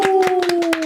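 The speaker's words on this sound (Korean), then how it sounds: "박수." A panel-discussion audience claps in quick rhythmic bursts, about seven sharp claps in under a second, over a steady tone.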